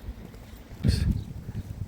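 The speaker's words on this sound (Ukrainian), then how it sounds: "А вітер дуже сильний" Gusty wind buffets the microphone outdoors in Cherkasy, Ukraine, with a low, rough rumble, swelling into a stronger gust partway through before settling to a steady blustery roar.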